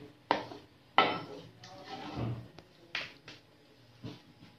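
Dishes and utensils clink sharply as fried daal is moved into a plate, several distinct knocks and taps at irregular intervals, close and fairly quiet, with soft scraping between them.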